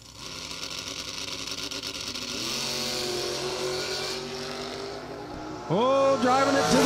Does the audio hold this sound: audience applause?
no